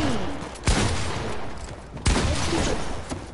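Two sharp, loud sniper-style gunshots in a multiplayer shooter, spaced well over a second apart over a constant noisy game background.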